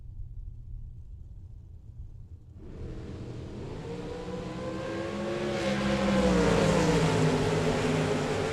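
A Mustang drag racing car at Las Vegas Motor Speedway comes in after a quiet rumble, a loud engine roar that climbs steadily in pitch as it revs and builds to a sustained, powerful drone.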